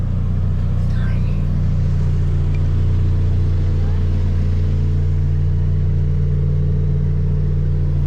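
Mini truck engine idling and being moved, a steady low rumbling drone close by with little change in pitch throughout.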